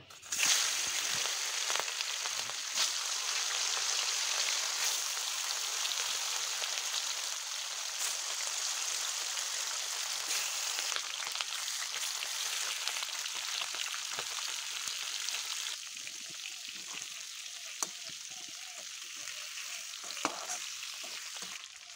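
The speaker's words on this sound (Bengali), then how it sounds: "এখন তেল গরম হয়ে গেলে এগুলোকে ভেজে নেব" Katla fish pieces, rubbed with salt and turmeric, fry in hot oil with a steady, dense sizzle and crackle that runs close and continuous the whole time, easing slightly toward the end.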